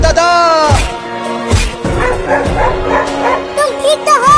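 Cartoon dog barking in an animated kids' show, several loud, sharp woofs spaced through the clip between yelps and whimpers, mixed with character voices and music.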